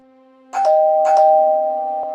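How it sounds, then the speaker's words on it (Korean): A doorbell rings in the small hours inside a large house, two clear ding-dong chimes sounding close and alone over a faint steady hum. "정막을 뚫고 초인종 소리가 울려 퍼졌습니다."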